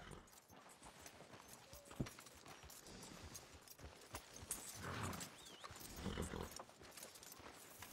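Horse hooves clip-clop at a steady walk in Red Dead Redemption 2, with a short whinny partway through and soft ambient noise around them.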